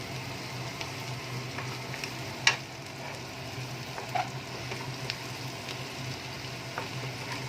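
Onions sautéing in a pan over a high gas flame make a steady, quiet sizzle throughout, with a few soft clicks of stirring and no voices.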